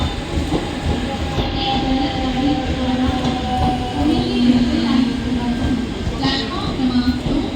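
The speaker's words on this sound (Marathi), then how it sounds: "Keep away from this platform number 2. Fast train is fast." A fast Mumbai local train rumbles loudly past platform 2 at Chhatrapati Shivaji Maharaj Terminus, with a continuous heavy roar and metallic squeals, while a station announcement plays over it.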